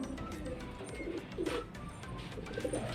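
Pet pigeons on a house rooftop coo softly at close range, a few low, rolling calls over light background noise.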